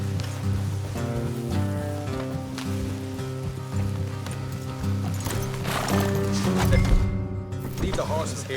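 Horses trotting in Red Dead Redemption 2, with rhythmic hoofbeat clip-clops running under a loud, sustained orchestral game score and intermittent voices.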